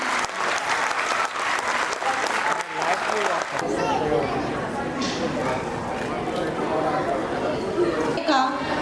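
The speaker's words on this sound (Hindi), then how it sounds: "बच्चों की शानदार प्रस्तुति के लिए जोरदार तालियां।" Loud audience applause at a school annual function after a children's performance, dense clapping with crowd chatter, intense at first and then settling into a steadier, slightly softer roar.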